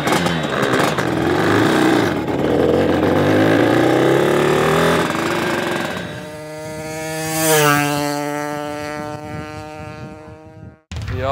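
A Hercules Prima GT two-stroke moped engine on a dynamometer revs loudly and rises in pitch, then settles into a buzzing idle with harmonic whine before cutting off briefly near the end.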